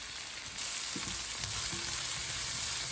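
Potatoes roasting with onions in a home kitchen pan, giving a steady close sizzle throughout with a few soft stirring knocks from a utensil.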